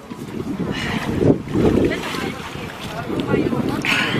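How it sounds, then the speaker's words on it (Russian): Cold wind gusts buffet the microphone in rough bursts amid snowfall by the Ob River in Novosibirsk in January, with a voice speaking intermittently beneath the blustery noise. "Ветер холодный, снег идет."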